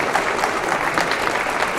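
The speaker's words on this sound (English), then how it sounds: "let's have a round of applause and congratulations for the championship performance last year" A crowd at the Philadelphia Marathon race weekend kickoff applauds the marathon champion, steady dense clapping throughout, close and loud.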